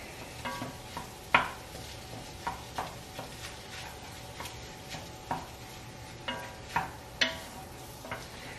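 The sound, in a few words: ground pork browning and being broken up in a pan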